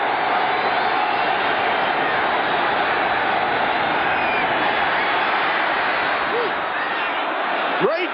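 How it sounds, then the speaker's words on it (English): A football stadium crowd at a 1983 Chiefs at Seahawks game roars in a constant, dense din, loud and unbroken for the whole stretch with a faint whistle near the end. "Listen to this crowd."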